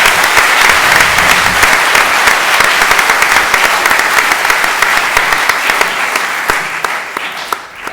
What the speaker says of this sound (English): Please, a warm round of applause for all the people who did big work.